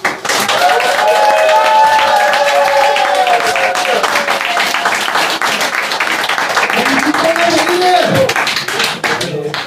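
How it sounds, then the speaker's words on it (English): Big applause from an audience at a live comedy show in Haarlem, Netherlands, loud continuous clapping and crowd noise with a voice calling out over it near the start and again toward the end. "Give it up. Big applause."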